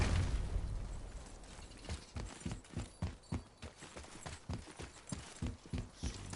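Rhythmic horse hoofbeats in the video game God of War, clopping at a steady trot, evenly spaced thuds with a soft background hum.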